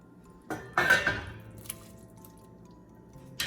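Sausage goes into a simmering pot of food with a couple of quiet clinks and a soft, wet squish. A light tap follows, and then only a low, steady background is left.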